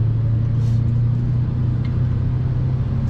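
A car idles and creeps along a street in central Marseille while parking, a steady low engine rumble that stays close and constant, with faint street ambience and no voices.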